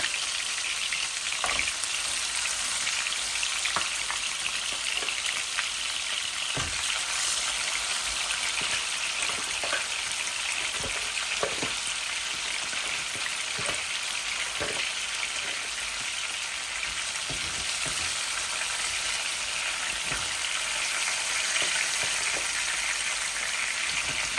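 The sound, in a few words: frying air fish head in a pan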